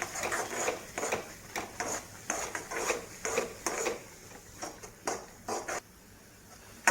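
Tomatoes frying in oil in a pan while being stirred with a utensil, a series of short scraping and clinking strokes in an uneven rhythm over a faint sizzle, close and fairly quiet, with no voices.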